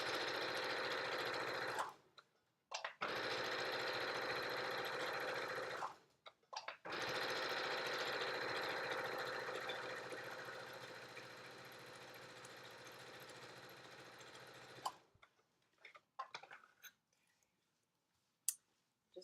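Sewing machine top stitching a make-up bag with a regular presser foot, a steady rapid mechanical whirring in long runs broken by short pauses, close and loud, ending with a few scattered clicks.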